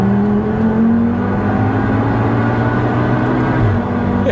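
An engine-swapped Volkswagen Golf R Mk7 with a 650+ bhp Audi RS3 engine and DSG gearbox drones loudly and steadily from inside the cabin, its pitch holding with a slight rise and a brief dip that could be a quick gear change.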